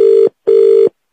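A telephone rings in two long, loud, even bursts with a short silent gap between them. No one speaks over the ringing.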